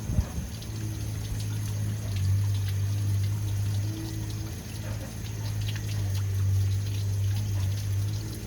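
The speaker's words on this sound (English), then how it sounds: "So I think I'm gonna go get the hose and we'll just start flushing this thing out." Water from a hose runs steadily through the rusty engine of a 1974 Toyota Celica being flushed out, a continuous close pouring and splashing rush with a low pump-like hum underneath and no talking.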